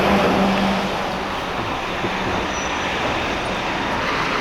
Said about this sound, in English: I told you there were buses around here